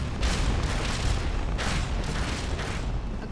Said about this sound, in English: Pelican drops and blows up after I shoot its pilot.